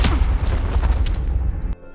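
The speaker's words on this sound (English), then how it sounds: "but Rusty shoots him again" A gunshot in an action revenge film: one loud, booming blast with a ragged tail of echoes that stops abruptly into near silence.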